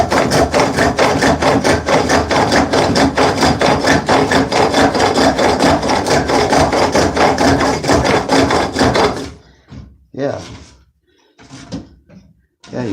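A spring pole lathe cuts soft wood in fast, regular rasping strokes, loud and close for about nine seconds, then slows to a few separate scrapes with pauses between.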